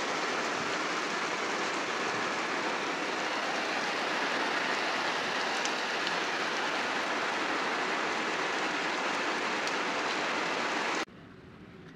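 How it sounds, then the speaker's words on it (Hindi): Heavy torrential monsoon rain pours down in Tharparkar, the season's first storm, a dense, steady roar of downpour hammering surfaces nearby for about eleven seconds before cutting abruptly to a much quieter hiss. "मूसलाधार तूफ़ानी बारिश।"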